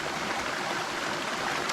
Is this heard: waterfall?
yes